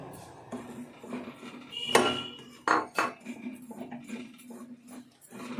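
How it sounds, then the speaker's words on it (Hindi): Wheat flour being stirred and roasted in ghee in a pan, with close, intermittent scraping and metallic clinks of a spoon against the pan and a few sharper taps. "अब हम इसमें आटा भून लेते हैं"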